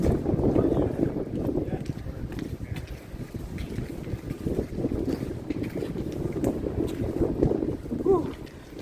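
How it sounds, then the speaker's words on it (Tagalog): Strong winter wind gusting at the Old Port of Montreal, a heavy rushing roar buffeting the microphone continuously, with a voice speaking over it. "Lumakas na naman ang hangin"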